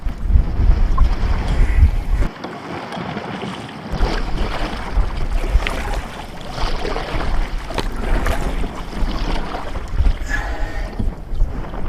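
Gusty wind buffets the microphone on open water in the Walney Channel while kayaking, with loud rumbling gusts, splashing paddle strokes, and faint voices in the background.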